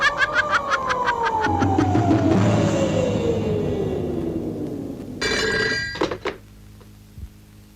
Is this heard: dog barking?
no